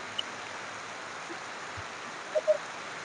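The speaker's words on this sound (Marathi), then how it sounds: "सव्वीस तारखेच्या रात्री डोकी परिसरामध्ये जोरदार पावसाचं आगमन चालू आहे" Steady heavy rain pours at night, a dense, even hiss holding throughout with no voices, broken only by a couple of faint brief knocks near the end.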